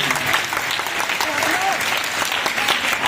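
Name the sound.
applause for performing school children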